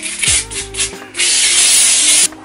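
Hairspray is sprayed onto backcombed hair for a Korean-style updo: a loud, close, sustained aerosol hiss follows a few short combing and rubbing noises, then cuts off abruptly.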